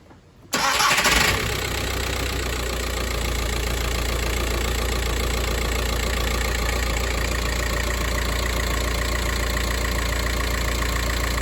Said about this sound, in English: I'm going to start him up now and check what the alternator outputs